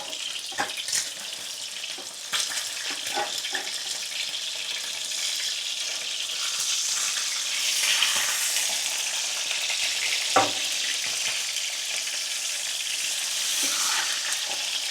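Tuna steak frying in a pan: a steady, bright sizzle and crackle with a few soft clanks and scrapes of the pan or utensil, moderately loud and constant throughout, with no talking.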